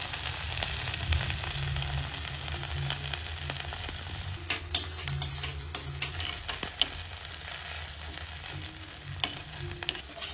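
Ginger and chili paste sizzle in ghee in a wok, a steady close frying hiss throughout with scattered clicks and scrapes of stirring.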